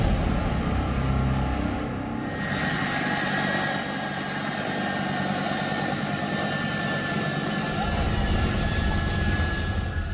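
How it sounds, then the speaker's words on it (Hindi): Jet engines of a US military C-17 aircraft at Kabul airport, a loud constant roar with a high steady whine layered over it, going on throughout with no voices. "काबुल के हवाई अड्डे पर यह अमेरिकी सेना का C-17 विमान पहुंचा था।"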